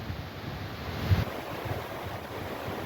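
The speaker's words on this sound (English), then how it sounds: "I'm going to get away from this windy alleyway." Gusty storm wind blows through a back alleyway, a steady low rumble buffeting the microphone with one brief stronger gust, heard alone.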